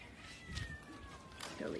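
In a cattery after dark, cats give a few faint, brief meows amid background voices and rustling movement as they slip away.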